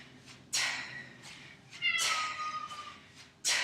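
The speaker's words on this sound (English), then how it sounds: "That's our cat, if you didn't hear her." A female cat meows several times indoors during a home kettlebell swing workout, drawn-out calls spaced a second or so apart, fairly close and clear over a low background.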